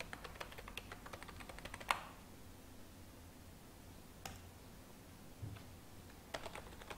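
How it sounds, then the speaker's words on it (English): Keys on a computer keyboard tapped in quick, light bursts to enter a phone number, with a cluster of clicks at the start, a few isolated taps in the middle and another short flurry at the end, soft and close in a quiet room. "here you can type the number"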